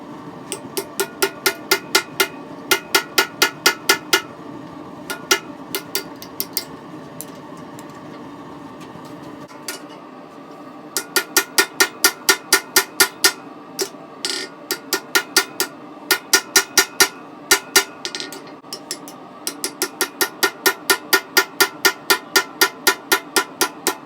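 A drift is hammered through a rivet hole in blacksmith knife-making tongs, with fast bursts of sharp, ringing metallic strikes in rapid evenly spaced runs, broken by brief pauses, loud and close.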